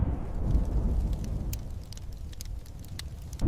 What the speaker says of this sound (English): Far away, a storm was rising.